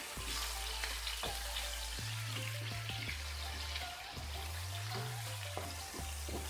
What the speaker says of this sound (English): Then we'll fry it just a little.